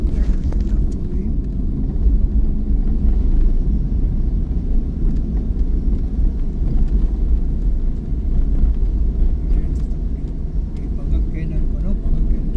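A Suzuki DA64V 4x4 automatic van with the air conditioning running climbs a steep uphill road near Puerto, Cagayan de Oro, its engine a steady loud low drone throughout while people talk inside.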